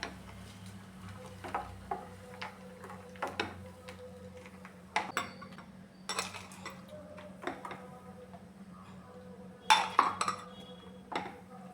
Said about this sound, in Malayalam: ഇതെല്ലാം കൂടെ നന്നായിട്ടൊന്ന് മിക്സ് ചെയ്യാം